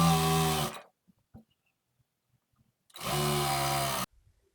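Sewing machine stitching the folded hem at the end of a baby's puff-sleeve frock, two loud close bursts of fast whirring, each about a second long, separated by near silence with faint handling taps.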